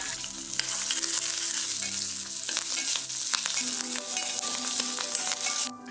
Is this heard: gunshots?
no